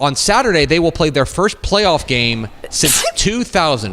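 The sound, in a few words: sneeze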